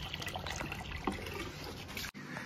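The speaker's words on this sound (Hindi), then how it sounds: "तो चलो डालते हैं, अब इतना पानी तो काफ़ी होगा" Water being poured into a new 2-foot aquarium tank, a continuous trickling, splashing flow with small gurgles, fairly close, ending abruptly near the close.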